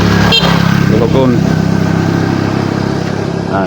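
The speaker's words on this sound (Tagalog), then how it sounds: "Tungas ang motor." A motorcycle engine labors steadily uphill, loud and close throughout, with someone speaking over the drone.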